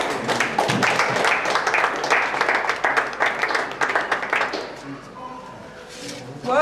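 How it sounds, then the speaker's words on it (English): An audience at a general meeting claps for about four and a half seconds, with some distinct individual claps in the mix, then the clapping fades as a voice takes over. "let's clap for master"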